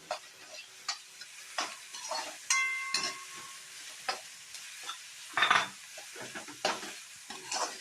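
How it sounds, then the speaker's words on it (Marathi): Onion and tomato frying for homemade Maggi-style sevaiyan, with a soft hiss under repeated spatula stirs and scrapes against the pan, close and intermittent, plus a brief louder sizzle burst midway and no talking. "कांदा थोडासा परतवला गेल्यानंतर आपण टोमॅटो टाकू."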